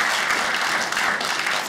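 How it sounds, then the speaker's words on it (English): Steady applause from a stand-up comedy audience, dense clapping filling the whole moment at an even, sustained level with no voices on top. "Give him a round of applause."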